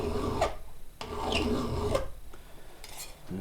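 A metal file rasps against chainsaw rakers checked with a file gauge, giving three or four distinct close scraping strokes in a slow steady rhythm with no talk.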